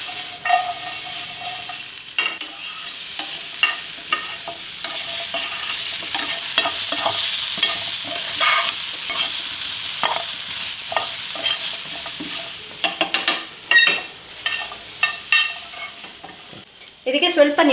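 Soy chunks for a soya curry sizzle steadily as they are stirred and fried in a pan, with clattering scrapes of the spoon breaking through a continuous close hiss.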